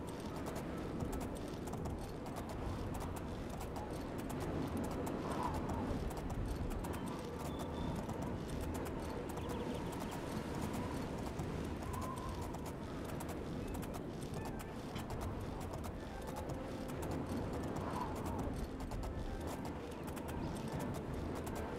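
Hooves drum at a steady gallop in the game Oblivion, a continuous dense clatter that runs throughout at moderate level, with faint ambient game sounds beneath.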